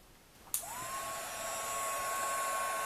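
A craft heat tool switches on with a click and blows a steady, whining rush of hot air to melt embossing powder on a Christmas gift tag, rising slightly and running on alone.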